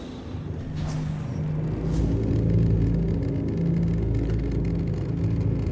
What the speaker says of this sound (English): Launch complete. Engines are on.